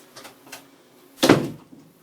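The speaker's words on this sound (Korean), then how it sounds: "일단 방문을 닫았습니다." A room door is pulled shut in one solid thud with a short rattle after it, heard near and alone after a quiet pause with only faint background noise.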